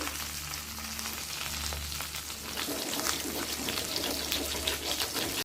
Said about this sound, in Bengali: বাটা মাছটা এক পিক ভাজা হয়ে যাওয়ার পর উল্টে দিয়েছি দিয়ে দেব খুব সামান্য কালো জিরে